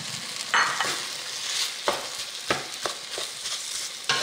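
Cooked rice stir-fried with tomato sauce in a pan for pork chop baked rice, a soft continuous sizzle broken by several distinct spatula scrapes and taps at irregular intervals, no voices.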